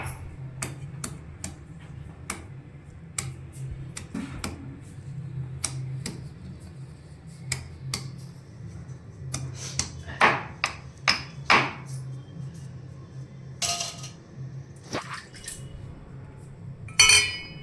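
Spices being pounded coarsely for amla pickle, a series of sharp irregular knocks from pestle and mortar over a low hum, clustering faster toward the end, with no talking.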